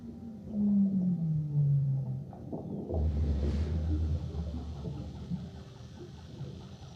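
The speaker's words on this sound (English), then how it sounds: "the Weddell seal, who makes these extraordinary sounds, like signals from outer space" Eerie sliding underwater calls of a Weddell seal, a descending whistle-like tone followed by a low sustained rumble, with a faint hissing sweep in between.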